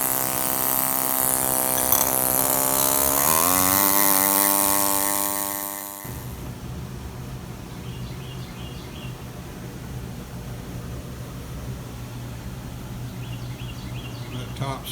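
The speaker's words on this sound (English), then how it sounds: "So just keep cutting stone." A power tool cuts into a marble stone cross during carving, a loud steady whine with rising tonal pitch for about six seconds before dropping to a quieter, rougher grinding hum that continues to the end.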